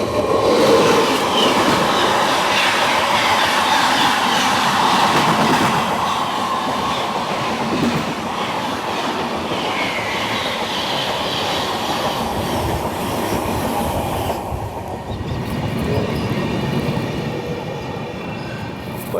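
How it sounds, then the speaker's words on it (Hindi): The Gitanjali Express from Mumbai to Howrah rumbles steadily along the rails with continuous rolling clatter and wheel noise, heard close and loud from aboard the train throughout. "Crossing Howrah Mumbai Geetanjali express."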